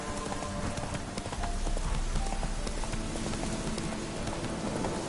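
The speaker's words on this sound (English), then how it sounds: "Come on, Roach." A horse trotting in The Witcher 3, with steady rhythmic clip-clop of hooves over a dense, loud bed of ambient game noise.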